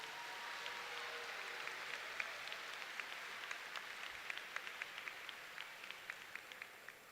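Audience applause at a 2022 high school graduation ceremony in a fieldhouse, a steady wash of distant clapping from a large crowd that holds even for about seven seconds without talk.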